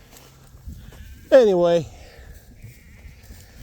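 A sheep in a paddock with an electric wire lets out one loud, wavering bleat close by, with someone talking briefly before it.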